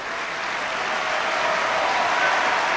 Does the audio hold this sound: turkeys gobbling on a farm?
no